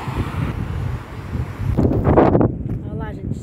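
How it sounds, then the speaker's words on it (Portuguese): Strong wind buffets the microphone along a beach promenade in Aracaju, a steady rumble that surges louder midway through, with people talking faintly underneath. "Olha lá, gente, o vento tá forte."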